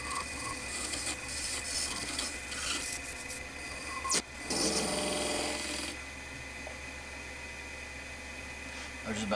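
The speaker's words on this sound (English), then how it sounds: "I'm going to turn this piece of clear acrylic to make the finial." Clear acrylic being turned on a lathe for a finial, a scraping, rubbing hiss from the tool against the spinning piece, with a louder rougher burst midway before settling back to a steady whir.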